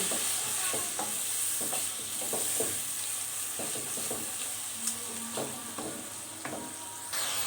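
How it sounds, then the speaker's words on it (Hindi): Whole spices such as cumin and a cinnamon piece sizzle gently in hot oil for a chicken curry, with soft scrapes and clicks of a spoon stirring the pan at close range. "जी, मसाले को हमने 1 मिनट भून लिया है।"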